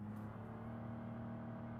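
A naturally aspirated 226 V6 car engine in BeamNG career mode holds a steady, even drone at fairly low revs, faint and continuous with no talk over it.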